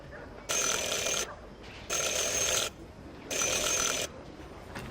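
A shop bell in Syberia: The World Before rings three times in even bursts, each about three-quarters of a second long, with short quiet gaps between them. The sound is bright and metallic and stands alone, with no talk.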